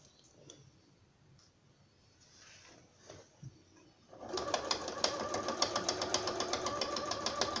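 A sewing machine stitching fabric runs for the second half in a fast, even run of mechanical ticks. Before it starts, there is only faint handling noise.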